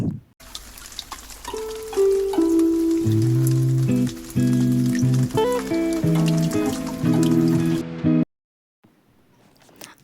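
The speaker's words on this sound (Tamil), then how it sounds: "ஆயில் போட்டுட்டு அதில் நம்ம ரெடி பண்ணி வச்சுருக்க பச்சை மிளகாய், பூண்டு, புளி, இஞ்சி இது எல்லாமே வந்து பச்சை வாசனை போகிற அளவுக்கு ஃப்ரை பண்ணிக்கணும்" Green chilies, garlic, tamarind and ginger fry in oil for mint chutney, giving a dense hissing sizzle under background music before the sound cuts off abruptly near the end.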